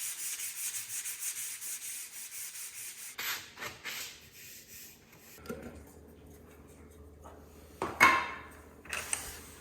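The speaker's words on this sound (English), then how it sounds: "I want to give it a quick sanding, put another coat on it, let it dry." A painted wooden kitchen island is hand-sanded between coats, giving a close, rhythmic rubbing and scratching of rapid back-and-forth strokes, then a pause and a few scattered knocks and scrapes.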